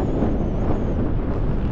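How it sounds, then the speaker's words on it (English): Wind blowing hard at an exposed Lake District wild camp in cold weather, a loud continuous roaring rumble buffeting the microphone close up for under two seconds with no pauses. "That wind."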